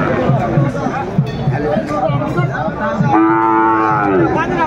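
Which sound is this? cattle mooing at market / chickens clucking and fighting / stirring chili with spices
cattle mooing at market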